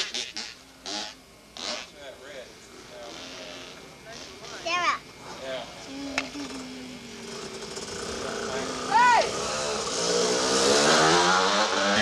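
A motorcycle revs at a hillclimb event in 1988, engine note rising and falling in bursts that build toward a louder, sustained rev, with people talking throughout.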